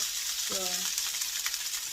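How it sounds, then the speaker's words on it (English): Steady crackling sizzle of rice frying in hot oil for Nigerian-style fried rice, close by, with a brief tonal clink partway through. "I'm frying it because it's called fried rice"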